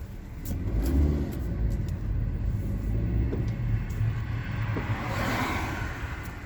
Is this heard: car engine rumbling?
yes